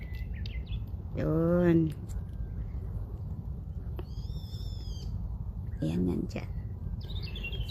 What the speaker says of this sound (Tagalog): Masapit sa bundok kasi maraming maraming mga bird tumutugtog, nagkumakanta.